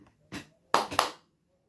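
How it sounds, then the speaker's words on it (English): Three sharp hand claps for a disappearing tissue-box magic trick: one lone clap, a pause, then two quick claps close together, crisp and near in a quiet room. "I have to clap 3 times"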